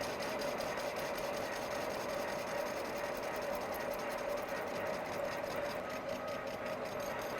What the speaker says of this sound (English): Seems to be machining quite nice.